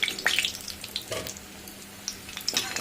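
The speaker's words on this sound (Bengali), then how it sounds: "আর এই একইভাবে আমি সব ধোকাগুলো ভেজে নেব" Mango and lentil dhoka pieces frying in hot oil, a continuous close sizzle with scattered sharp crackles and pops, no talking.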